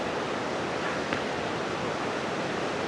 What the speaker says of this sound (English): there's a bit of a waterfall there